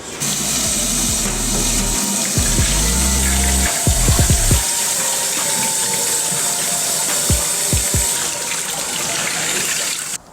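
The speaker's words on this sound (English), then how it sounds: "now all I gotta do is wash and melt all this ice off the winglets and side skirts" Water runs continuously while ice is washed and melted off the winglets and side skirts of a 1996 Honda Civic sedan, a loud steady spray with a low mechanical hum early on and a few brief thumps.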